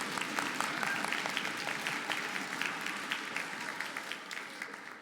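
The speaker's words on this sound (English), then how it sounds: "let's give our parents a big round of applause" An audience at a winter orchestra concert applauds steadily, a dense wash of clapping from many hands that holds for several seconds without pause.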